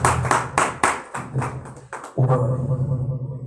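Hands clap in a church congregation during a Sunday service: a run of loud, uneven individual claps, then a short gap and a denser burst of group clapping that continues.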